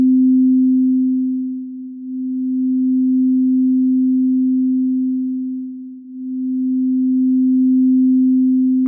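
A quartz crystal singing bowl tuned to F rings as a steady, pure sustained tone, swelling and dipping gently in two slow waves, then cutting off abruptly at the end.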